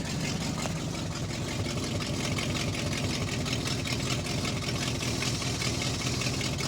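Engine of a 1971 Chevrolet K10 truck idling shortly after a cold start, a steady, close, loud rumbling idle with an even low pulse throughout and no talk.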